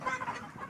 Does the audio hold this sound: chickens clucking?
yes